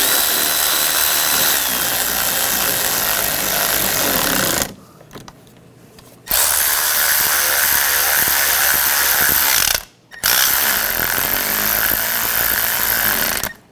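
A power tool drives screws tight during spark plug work on a 2004–2009 Toyota Prius. It gives a loud steady whir that stops briefly, then runs again in two more long bursts.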